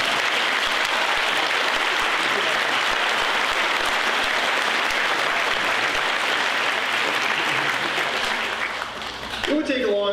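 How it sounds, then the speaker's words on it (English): A graduation audience applauds the Class of 2023 graduates with dense, steady clapping filling the hall, fading briefly near the end as a voice begins to speak. "Now we can applaud them"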